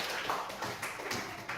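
A class of students clapping hands together, a loose scattering of soft taps and claps in a steady patter, fairly quiet and close.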